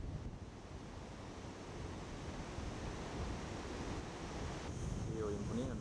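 A strong wind blows through El Caminito del Rey gorge near El Chorro, a loud constant roar buffeting the microphone, with faint voices briefly audible near the end.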